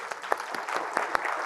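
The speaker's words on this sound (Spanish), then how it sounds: "Démosles un aplauso a los varones" Dense, steady audience applause at a Mother's Day gathering, honoring the men present, with a few sharper claps standing out over the continuous patter throughout.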